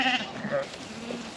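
Sheep on a farm bleating close by, a couple of wavering, nasal calls in quick succession over faint background noise.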